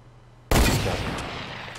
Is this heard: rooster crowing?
no